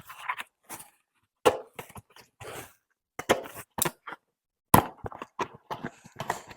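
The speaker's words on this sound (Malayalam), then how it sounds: "സോ നമുക്ക് എന്തായാലും അൺബോക്സ് ചെയ്യാം." A budget hobby-grade RC car package is unboxed up close, with sporadic sharp clicks, taps and crinkly rustling of cardboard and plastic separated by short silences.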